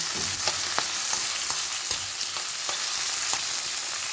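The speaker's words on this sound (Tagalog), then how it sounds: "Gigisa natin yung shrimps" Shrimp sautéing in a pan with carrots, a loud continuous sizzle and frying hiss with periodic scraping stir strokes, close up and with no talking.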